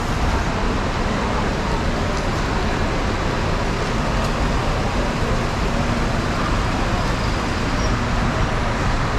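Constant road traffic rumble in Kuala Lumpur with a city bus engine droning close by, a dense, steady roar of vehicles with no pauses.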